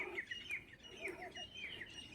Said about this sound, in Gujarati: તમે સાંભળી રહ્યું છે મસ્ત પક્ષીઓનો અવાજ થઈ રહ્યો છે